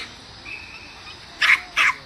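At an outdoor dog agility competition at a training ground in Zlín, two short, fairly loud barks come near the end, over a low, steady background hum.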